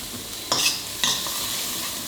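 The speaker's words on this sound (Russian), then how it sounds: "Лук-порей, он, понимаете, он нежный, он жарится буквально минутку-две вообще." Leek and kaffir lime leaves sizzle steadily in an oiling pan for tom yum pasta, close up, with two quick scraping stirs cutting through the frying hiss.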